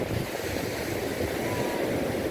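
Surf at Mnandi Beach rolls and washes in a steady, close roar of breaking waves, with some wind noise and no talking.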